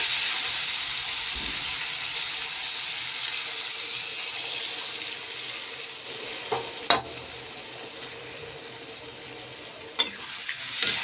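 Water poured onto a fully fried spice paste for a thin rohu fish curry sets off a steady, close sizzling hiss, broken by a few sharp clatters of a spoon against the pan.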